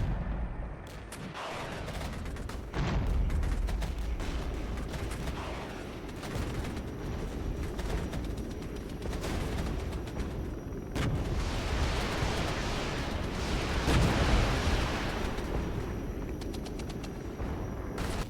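Infantry gunfire and explosions roar through an RTS video game battle, with dense continuous shooting, bursts and heavy blasts filling the scene, peaking in loud explosive surges near the end.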